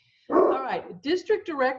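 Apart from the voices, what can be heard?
dog barking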